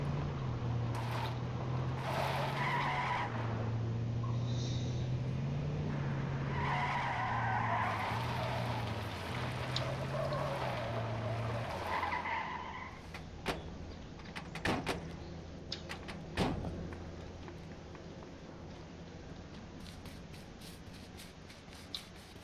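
A car in the video game H1Z1 revving and accelerating, with a droning engine that rises and falls in pitch, followed by tire skids and sharp clattering impacts toward the end, moderately loud with no talk.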